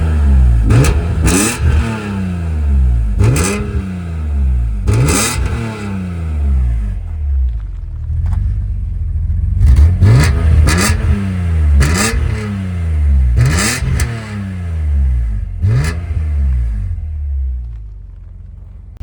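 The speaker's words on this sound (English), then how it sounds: "let's hear some revs for the CSL" Loud BMW E46 M3 CSL engine revving in repeated bursts, each rev climbing sharply then dropping back to idle, with a steady rumble between throttle blips.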